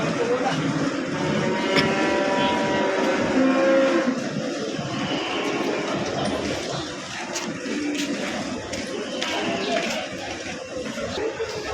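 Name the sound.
cattle at Payakumbuh livestock market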